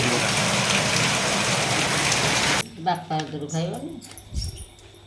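Heavy rain pours in a dense, loud, unbroken roar for a few seconds, then stops abruptly, leaving a voice talking and moving about.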